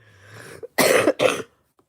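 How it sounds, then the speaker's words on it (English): A faint murmur, then two loud harsh coughs in quick succession, close to the listener, followed by silence. "I'm starting to hack and cough."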